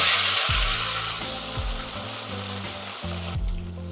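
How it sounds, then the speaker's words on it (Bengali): Dried fish frying in hot oil, a steady broad sizzle running throughout, loud and close, with a low background hum and a few soft knocks underneath. "তেলটা গরম হয়ে গেছে এবার মাছগুলো ভেজে নেব"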